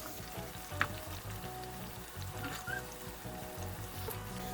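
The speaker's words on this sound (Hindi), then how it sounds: "ये देखें पकौड़े ऑलमोस्ट फ्राई हो चुके हैं" Pakoras deep-fry in hot oil, giving a steady, quiet bubbling sizzle throughout with a few faint pops and crackles, close and continuous without talk.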